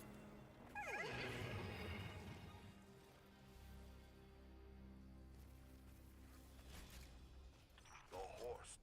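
A horse neighs in the video game Destiny 2, a loud whinny near the start with descending tones, followed by low mechanical rumble and creaking game sounds; no talking in the clip.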